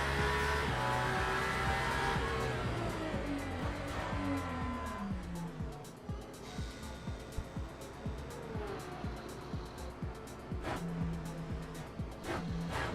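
A racing car engine in the video game Le Mans Ultimate rises and falls in pitch through several gear changes, dropping off and climbing again, with rapid rattling pulses as it slows.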